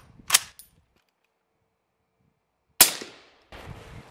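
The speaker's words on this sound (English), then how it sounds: "just want to mainly see if this thing cycles subs with a can" A Midwest Industries MI-10F rifle fires subsonic rounds through a suppressor, producing two sharp, muffled cracks about two and a half seconds apart with short mechanical decays. A brief rustle follows the second shot.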